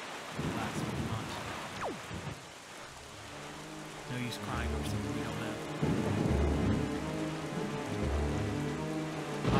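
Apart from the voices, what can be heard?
rain and thunderstorm at sea, video game Zelda Wind Waker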